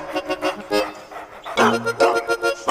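A dog barks several times in quick, loud bursts, close to the listener, with music-like tones running underneath.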